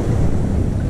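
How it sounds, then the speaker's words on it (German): Big ocean waves crash and roar with strong wind buffeting the microphone on Lagos beach in Portugal, a loud, dense, continuous wash of surf and wind noise with no pause. "Ich hoffe, man kann mich verstehen bei den fetten Wellen hier"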